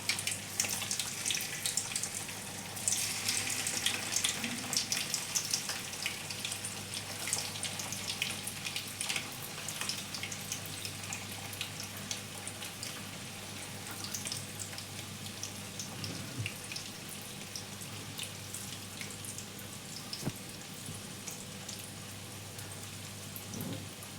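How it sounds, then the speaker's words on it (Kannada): Cauliflower gobi manchurian balls deep frying in hot oil fill the clip with a dense, steady crackling sizzle like heavy rain, loud and close throughout, with no voices. "ಇದನ್ನು ಲೈಟಾಗಿ ಒಂದು ಕಲರ್ ಬರೋವರೆಗೂ ಫ್ರೈ ಮಾಡ್ಕೋಬೇಕು."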